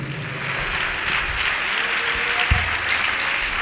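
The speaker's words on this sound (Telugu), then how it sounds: "చప్పట్లు కొట్టి ఒకసారి సంతోషంగా దేవుని మహిమపరుద్దాం" A congregation at a Telugu Palm Sunday church service claps in praise, a continuous, fairly loud wash of many hands with a faint low rumble underneath.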